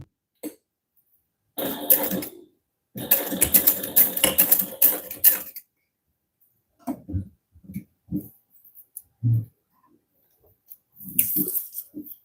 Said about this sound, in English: now I'm top stitching along this side using an 1/8 inch seam allowance as well